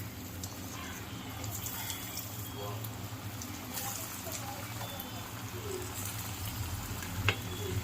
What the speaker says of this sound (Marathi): आता एक तेल गरम केलं आहे, आता आपण ह्याच्यात फ्राय करूया.